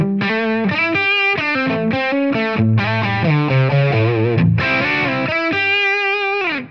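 Distorted electric guitar through an amp tone model with a light touch of reverb, playing a lively riff of picked single notes and chords, loud and alone, ringing out at the end.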